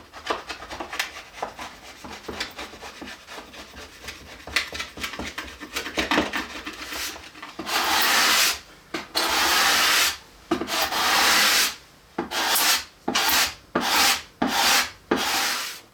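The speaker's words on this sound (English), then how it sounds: "I'm going to use a flush plane and a cabinet scraper to take out any irregularities" Steady rasping strokes of a cabinet scraper across laminated wooden boards, first soft and continuous, then louder in distinct rhythmic pulls with short pauses between.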